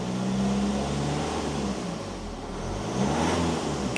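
A car engine revved in place while a diagnostic scanner reads live data, a close steady idle rising to a brief rev and settling, then lifting again near the end, with no talk.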